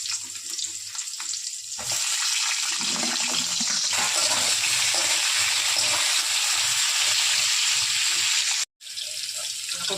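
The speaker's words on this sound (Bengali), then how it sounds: "একটু লাল লাল করে ভেজে নেব।" Pointed gourd frying in hot oil in a pan for a potato and pointed gourd curry: a steady, close, even sizzle runs throughout with one brief dropout near the end, and no talk.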